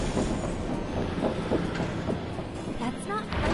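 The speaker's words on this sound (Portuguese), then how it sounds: "Todos a bordo com destino ao cemitério de trens." Train ride in the Final Fantasy VII Remake video game, heading to a train graveyard: a steady, dense rumble of rolling wagons with faint rhythmic clatter and brief squealing tones near the end, continuous and fairly loud throughout.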